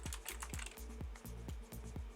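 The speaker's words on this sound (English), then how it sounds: "I'm typing it, Todd." Steady typing on a computer keyboard, close up, with rapid key clicks and heavier thumps at a regular pulse, continuous with no voices.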